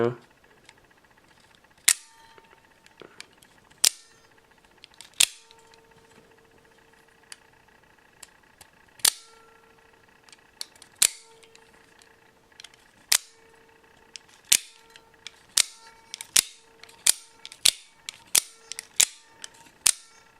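Microtech Scarab double-edged out-the-front automatic knife firing its blade: sharp snapping clicks, sparse at first, then quicker repeated deployments and retractions, crisp and close against near silence.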